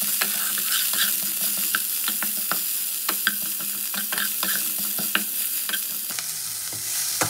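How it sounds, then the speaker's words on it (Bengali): Chopped green chili, capsicum and broccoli frying together in a pan for masala rice, a continuous close sizzle punctuated by sharp spatula clicks and scrapes against the pan, no voices. "তো এবার কাঁচা লঙ্কা, ক্যাপসিকাম আর ব্রোকলি একসাথে ভেজে নেবো"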